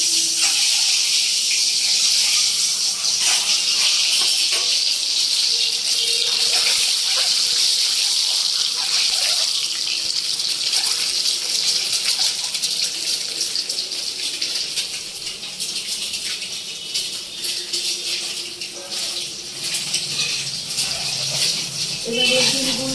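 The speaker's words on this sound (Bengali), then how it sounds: "তেলটা গরম হয়ে গেছে, এইবারে ডিমগুলো ভেজে নেব।" Eggs frying in hot oil in a wok, a steady bright hiss and crackle running throughout at close range, with a few light clinks and a voice talking faintly underneath.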